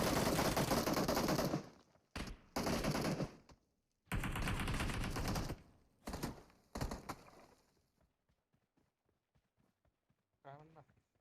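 Automatic UZI gunfire in the mobile battle-royale game PUBG Mobile: several loud, rapid bursts of a few seconds each, separated by short gaps, then fading to sparse, faint taps with a brief sharper sound near the end.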